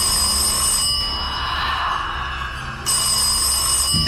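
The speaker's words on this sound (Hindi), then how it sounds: "और तभी ब्लैक फोन बजता है।" A telephone bell rings insistently, a bright, continuous metallic trill that pauses briefly before resuming.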